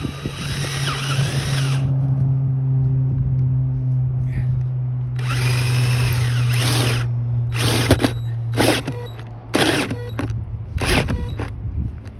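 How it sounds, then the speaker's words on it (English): A power drill bores through camper van wall insulation, whirring in a long burst, then in several short bursts, over a steady low motor hum, fairly close. "Might have a bit of trouble with this insulation, drilling all the way through."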